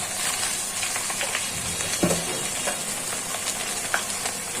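Okra frying in a pan with chilli powder, turmeric and cumin, a steady hiss and sizzle broken by occasional scrapes and knocks of a spoon stirring the pieces.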